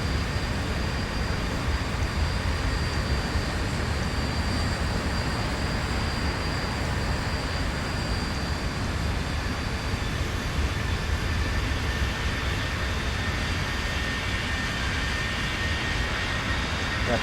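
Steady, loud roar of a Boeing 737 jet engine in the X-Plane 11 flight simulator, a continuous broadband drone with a faint high whine, constant throughout with no talk.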